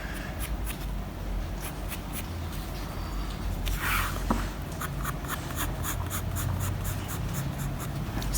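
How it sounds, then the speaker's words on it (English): A pencil sketches lightly on paper while drawing a diya, giving a run of soft, rhythmic scratching strokes close up over a steady background hiss. "Now children, sketch very lightly."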